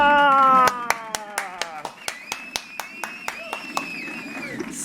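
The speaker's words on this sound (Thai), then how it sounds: "เดี๋ยวเราขอเสียงปรบมือต้อนรับ" Rhythmic hand clapping welcomes a guest on a music talk show, a steady series of sharp individual claps that starts as a music track fades out, fairly close and clear.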